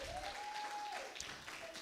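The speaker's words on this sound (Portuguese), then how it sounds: "então se aplaude o nome de Jesus, irmão." Church congregation in Málaga applauds during a Pentecostal-style service, a brief, moderately loud burst of clapping with a sustained tone ringing through the room.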